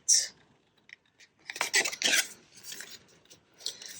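Scissors snip paper while trimming a paperclip tag with pockets, giving a few short crisp cuts and rustles spread over a few seconds, close and moderately loud, with no speech.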